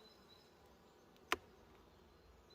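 Black honey bees buzz steadily over a brood frame during a hive inspection, a soft continuous drone with one brief sharp click partway through.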